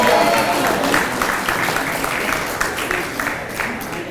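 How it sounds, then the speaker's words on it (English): Bowling banquet audience giving a round of applause, many hands clapping together in a steady, fairly loud wash that gradually thins toward the end, with faint crowd murmur underneath. "Let's give Whitney a nice round of applause."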